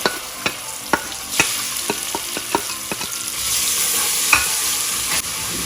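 Garlic-ginger paste sizzles in hot oil with a steady crackling hiss, punctuated by repeated sharp scrapes and taps of a spoon stirring the pan.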